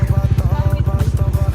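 An idling motorcycle chugs before a test ride, its steady rapid low thumping pulse close and loud, with people talking over it.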